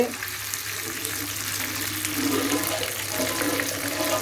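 Chicken tikka pieces coated in green hariyali masala shallow frying in oil in a pan, a dense, even sizzle up close with a low hum beneath, no voices.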